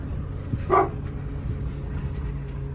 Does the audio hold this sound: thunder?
no